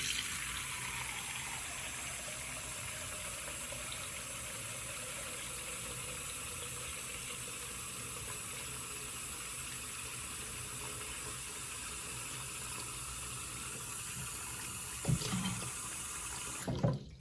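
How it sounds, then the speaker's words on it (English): Water runs steadily from a tap into a sink during a plumbing check, a constant rushing hiss for a long stretch, with a couple of brief clunks near the end. "Then we're gonna fill it with some water."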